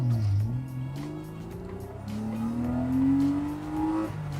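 A BMW 325i Coupe engine revs hard under full acceleration, pitch climbing steadily through high RPM with a brief gear-change dip, loud and close throughout.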